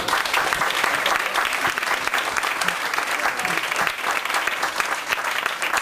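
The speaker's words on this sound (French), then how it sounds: "Madame Carrière d'Ancos, qu'on peut applaudir" Steady applause from a large crowd fills the whole stretch, dense clapping at an even loudness throughout.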